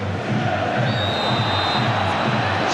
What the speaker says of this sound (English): The crowd have just lifted themselves, Brian, as if they realise that they've got to try and play their part now.